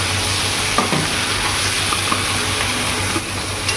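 Tomatoes fry in a hot pan with a constant close sizzle, and a spoon scrapes and stirs them in occasional short clicks. No voice is heard.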